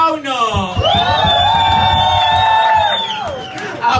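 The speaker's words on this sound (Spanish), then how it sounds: "¡Aplauso para el fauno!" A loud bar crowd cheers and whoops in a sustained roar, with voices shouting together at close range.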